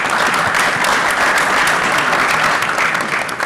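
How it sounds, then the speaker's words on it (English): Dense, steady applause from a seated audience at a women-in-racing session in a hotel ballroom, loud and continuous throughout with no pauses. "A big applause for her."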